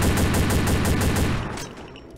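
Automatic gunfire from a gun in the shooter game Combat Arms rattles out in a fast, loud, evenly spaced burst lasting over a second, then stops abruptly, leaving a short tail.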